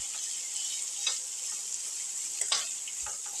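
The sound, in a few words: sauteing onion and shallots in a pan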